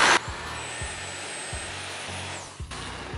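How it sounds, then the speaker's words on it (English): A power drill with a small bit boring a hole in plastic during a BMW 335i fuel pump install, a continuous high whine with a few short clicking catches and a brief dip near the end. "we're gonna slowly and carefully drill this hole"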